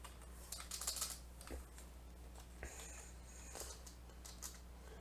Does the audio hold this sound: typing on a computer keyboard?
yes